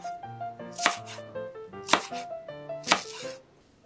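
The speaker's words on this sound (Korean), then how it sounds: "대파 반 개는 5cm 길이로 써세요." A knife cuts half a green onion (daepa) into 5 cm lengths on a board for a simple tomato-and-egg breakfast: three crisp, evenly spaced chops, close and clear, over soft background music.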